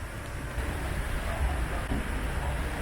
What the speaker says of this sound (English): taking the train.